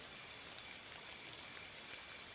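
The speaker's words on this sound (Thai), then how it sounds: "ฝนมาตกหนัก" Heavy rain falling steadily, a dense even hiss of drops at low level with no voices.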